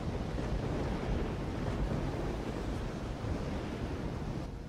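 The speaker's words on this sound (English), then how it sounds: "Yeah, the storm that's still going on." A storm roars over ocean waves in the video game Risen after a shipwreck, a dense, steady low rumble of surf and wind that stays loud and unbroken with no speech.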